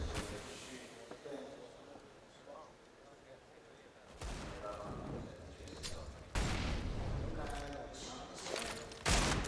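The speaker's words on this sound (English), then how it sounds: "Nade is well timed." Grenade blast in Counter-Strike on the Dust2 map during a StarSeries i-League match, heard as heavy booms and gunfire bursts under a commentator's voice, loud and close, with sudden jumps in level.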